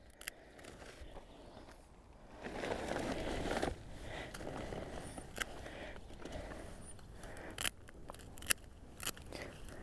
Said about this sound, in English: go to the very base of the plant and just cut it a couple of inches above the ground